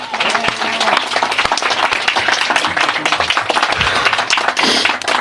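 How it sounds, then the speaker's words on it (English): A room full of people at a soil summit gives a loud, dense round of applause, continuous close clapping from start to finish. "Can we get a round of applause for those guys?"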